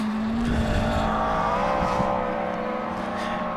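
A Ford Escort BDA rally car on a gravel stage of a rally in Coromandel, New Zealand, a loud close engine roar with a high sustained note and revving as it drives past.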